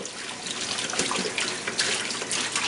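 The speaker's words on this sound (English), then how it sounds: "rinse it out like so" Water sloshing and splashing while a plastic water storage container is rinsed out, a steady bright spray with irregular splashes throughout, close by and with no speech.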